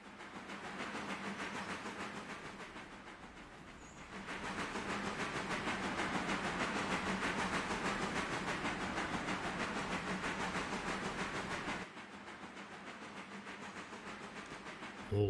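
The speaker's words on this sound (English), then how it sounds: "Comes our freight train, so just round the corner from here it's going to have to shunt those front carriages out." A freight train runs in the Railroader video game, a steady rumbling roll with rhythmic clatter that swells louder for several seconds, then drops back to a quieter hum.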